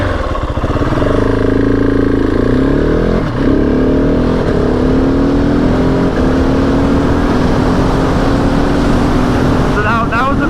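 A Husqvarna 701 single-cylinder motorcycle engine revved at about quarter throttle and quick shifted through gears, the loud, close exhaust note climbing in pitch, dropping at each shift and climbing again in steady succession.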